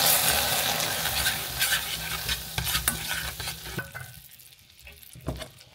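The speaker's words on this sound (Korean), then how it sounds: "물을 한 큰술 휘저어주세요" Water is stirred into hot caramel sauce in a pan, giving close, loud sizzling and spattering with scraping stirs that gradually die down toward quiet.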